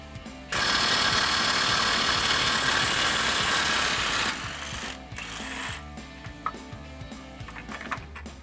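A power ratchet with an 18mm socket, working a shock absorber bolt on a Jeep Gladiator during a suspension lift install, buzzes in one loud, steady mechanical burst of about four seconds, then gives way to quieter clicks and clanks.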